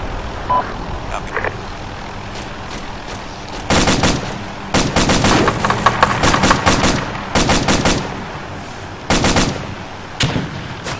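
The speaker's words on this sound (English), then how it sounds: "Still hearing AK fire southeast." Video-game AK rifle fire rattles out in sharp automatic bursts, several separate volleys of rapid shots spaced a second or two apart, loud and close over quieter background noise.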